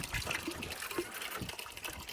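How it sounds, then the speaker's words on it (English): A garden water feature runs outdoors with a steady, gentle splashing and trickling of water, fairly quiet and continuous throughout. "The water feature has been good this year there."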